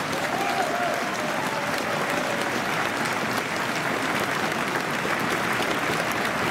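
Crowd at an outdoor solidarity rally for Ukraine applauds continuously, a dense, even wash of clapping at moderate distance with no break.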